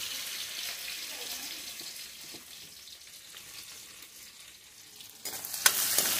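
Onion frying in a pan during village-style wild boar meat cooking of the Dimasa tribe in Assam: a steady close hiss of frying that swells into a louder, brighter sizzle near the end, with light stirring scrapes.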